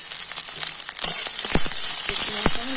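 Onions and two green chillies fry in hot oil in a pan, giving a steady, close sizzle with small crackles and pops throughout and no talking.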